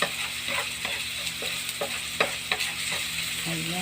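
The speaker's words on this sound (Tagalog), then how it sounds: "Pinisa ko ng sibuyas, bawang, saka ng luya." Onion, garlic and ginger sizzle in a pan, with a steady close frying hiss broken by the scrape and clatter of repeated stirring.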